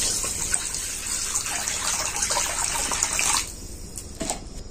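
Water pours steadily into a kadai (wok-style cooking pan) while making a semolina snack, a continuous close gushing splash that stops near the end with a few drips.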